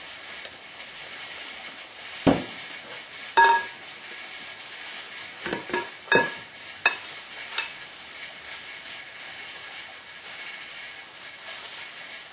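Stirring and mixing a recipe in a bowl, made with butter rather than vegetable oil, with a steady hiss and a few sharp clinks of a utensil against the bowl, close by and with no talk.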